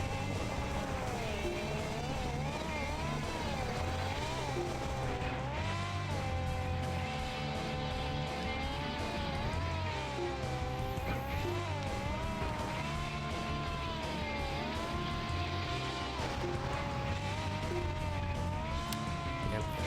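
Trucks race in the Wii video game Excite Truck. Engines whine continuously and shift pitch with acceleration and turbo, tires squeal, and game music plays underneath at a constant loud level.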